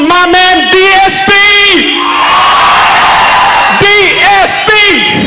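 A crowd at a music album event cheers loudly, with shrill whoops and yells rising in bursts at the start and end over a continuous roar of voices and applause.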